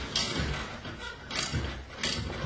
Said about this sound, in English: We're going to securely hold the rod, the winding rod that is, while we tighten the set screws one at a time.